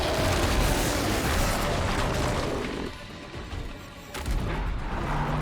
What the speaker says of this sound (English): And now he's on fire because I blew up one of those sacks.